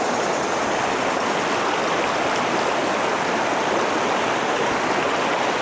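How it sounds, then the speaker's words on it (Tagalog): River water flows near a waterfall in a continuous, loud, close rush of broadband splashing and hiss that stays even for several seconds with no voices. "Kita nyo ba agos na tubig?"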